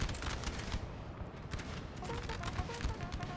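Continuous booming artillery and musket fire roll through a Napoleonic battle in Napoleon Total War, a dense, unbroken wall of distant cannon blasts and crackling volleys.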